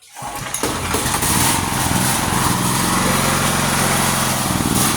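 A Honda SF 7000 DXE 220 V generator, with its carburetor freshly serviced, cranks and starts at low throttle, then settles into a steady, loud, close engine run with a slightly rough idle.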